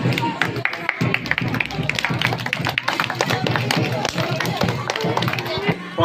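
Audience at a school's annual sports program at Shree Maa Saraswati Sishu Mandir in Cuttack breaking into steady, dense clapping that fills the space for several seconds, with voices mixed in.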